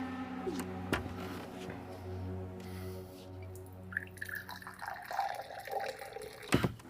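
Water pouring into a glass, its trickle rising in pitch as it fills, with faint low background hum and a few soft knocks.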